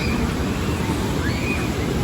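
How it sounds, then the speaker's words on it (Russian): Ocean surf on a Peruvian beach roars as a steady, broad rush of breaking waves, with wind buffeting the microphone throughout and no voices. "Сверху, кажется, волны не такие большие, а вот отсюда смотришь, и прям они уже кажутся здоровыми."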